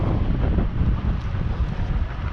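Wind buffeting a microphone outdoors near the Statue of Liberty and New York harbor, a continuous low rumbling roar with uneven gusts, loud and close, no voices.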